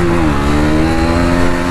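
A KTM Duke 250 motorcycle engine revs hard on a highway during a race with a Pulsar NS200, a loud, close, continuous drone that climbs steadily in pitch under wind noise.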